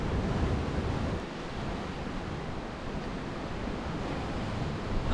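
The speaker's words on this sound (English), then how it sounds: "This wind is going to be a pain in the ass" Strong wind blowing on the coast, a constant loud roar buffeting the microphone, with the rush of waves mixed in and no pauses.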